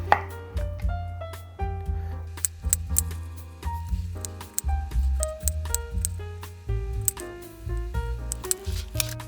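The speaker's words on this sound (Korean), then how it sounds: "약 한 1cm 정도로 얇게 썰어 주세요." A knife cuts lemons into thin rounds on a cutting board. Close, steady chops come in a quick, even rhythm, each with a crisp thud, and no one speaks.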